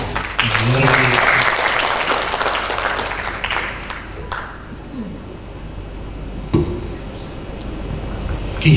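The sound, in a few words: audience applause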